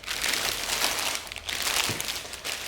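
A plastic bag around a Polk Reserve R200 loudspeaker crinkles and rustles loudly and continuously at close range while the speaker is unboxed, with no talking.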